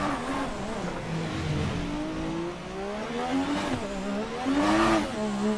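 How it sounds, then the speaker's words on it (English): An F1 race car engine revs continuously while drifting in sixth gear, the pitch rising and falling in loud, sustained surges with a harsh peak near the end. "I'm gonna drift my, my F1 car"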